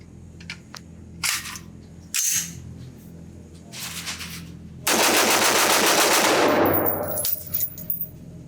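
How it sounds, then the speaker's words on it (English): Rapid gunfire from a Blackout Defense Quantum Mk-2 AR-15 rifle at a range, a few scattered shots followed by a dense, loud burst of fast consecutive rounds, then some trailing clanks. "Last 10 rounds just to see how fast I can shoot this thing."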